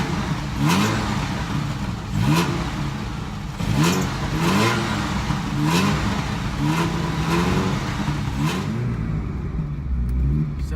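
A Ferrari 308 engine idles and is blipped in repeated revs, about seven rising bursts at a regular pace, close and loud, with a faint alternator belt squeal possible.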